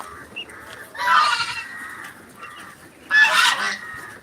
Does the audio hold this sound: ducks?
yes